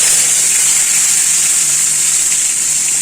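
Crushed onion, garlic and tomato hit hot oil already tempered with cumin for an egg kara kuzhambu, giving a loud, close, continuous hissing sizzle with no pauses.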